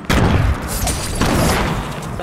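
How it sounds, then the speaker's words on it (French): Grenade blasts in a battle-royale video game, a loud boom at the start and another around the middle, each followed by rumbling debris over a dense game soundscape. "Je balance les grenades."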